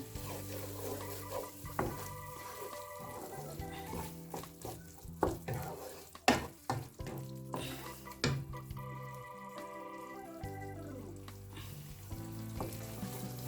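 Curry masala being sautéed in a pan before fish is added, a soft sizzle broken by stirring scrapes and clinks of utensil against the pan, partly under background music.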